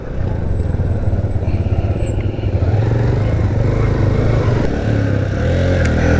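Motorcycle riding a mountain road toward Naran Kaghan, its engine loud and close with a rapid pulsing throb, mixed with wind rush and faint rattles, steady throughout.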